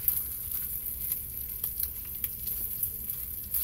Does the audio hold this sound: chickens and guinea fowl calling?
no